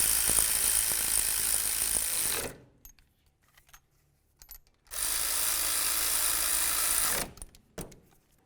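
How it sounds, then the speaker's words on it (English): Caliper slider bolts on the front brake caliper of a 2002-2006 Honda CR-V are run in with a tool. Two loud, close buzzing bursts of a couple of seconds each are separated by quiet clicks and shuffling. "Take your 2 caliper slider bolts, we'll start each of these in and then snug them up."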